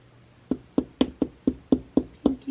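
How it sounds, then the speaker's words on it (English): Hammer blows work-hardening jewelry wire for a necklace: eight sharp, evenly spaced metallic taps, close up and clear, with no talking. "Hammering. What I'm doing."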